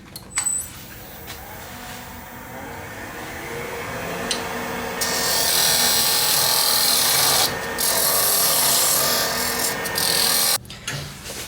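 Beading tool working the edge of a metal center band, a continuous close scraping rasp that grows harsher midway and ends in a brief clatter.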